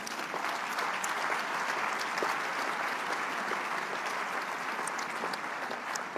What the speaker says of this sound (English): Can you give the Lord a clap offering?